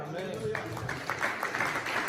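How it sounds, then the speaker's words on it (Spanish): A church congregation at an evangelical service claps in rhythmic, scattered bursts that build after a short pause, with a preacher's voice continuing over the clapping. "Dele palmas al Señor."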